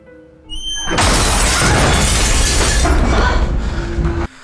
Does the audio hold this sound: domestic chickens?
no